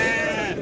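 A local-breed sheep bleats at a busy livestock market, a sustained wavering cry close by that cuts off briefly with a short noise at the end.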